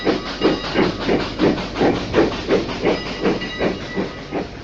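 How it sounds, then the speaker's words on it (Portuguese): A steam locomotive chuffs in a steady rhythm, about a dozen regular hissing puffs of steam, fairly close and without voices, in Perus, northwest São Paulo. "Esse som que você está ouvindo é uma gravação original de uma Maria Fumaça"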